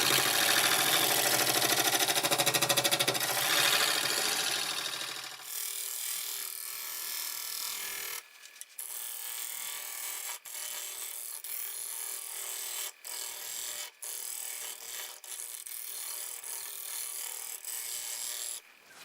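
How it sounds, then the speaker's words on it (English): A negative rake scraper works over elm wood spinning on a lathe, a continuous close, bright rasping hiss with a constant lathe hum underneath, louder and fuller for the first five seconds, then thinner with brief breaks. "I'm going to go over these CA patches with the negative rake scraper and just go over the whole thing"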